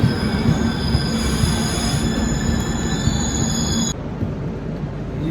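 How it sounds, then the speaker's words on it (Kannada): An express train rolls into Channapatna railway station, with loud continuous wheel rumble and a sustained high metallic squeal that cuts off abruptly near the end as the coach noise continues, and no one speaking. "ಈಗ ನಮ್ಮ ಟ್ರೈನ್ ಎಂಟ್ರ್ ಐತ್ರಿ ಚನ್ನಪಟ್ಟಣ ರೈಲ್ವೆ ಸ್ಟೇಷನ್ಗೆ."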